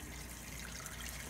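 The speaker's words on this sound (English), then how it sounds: "very hot water for the rinse" Very hot water running from a kitchen tap to rinse copper cookie cutters, a brief, soft, steady splashing stream with no voices.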